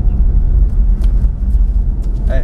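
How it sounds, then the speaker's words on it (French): A Nissan Juke on EasyDrift tyres accelerates while drifting, giving a loud, steady low engine rumble from start to finish with a brief higher squeal near the end. "Allez, accélère encore un peu."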